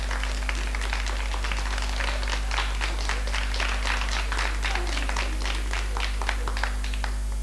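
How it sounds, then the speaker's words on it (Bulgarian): Steady applause from a crowd at a televised children's show, dense overlapping claps running the full length at moderate loudness beneath a constant low electrical hum. "Аплодисменти!"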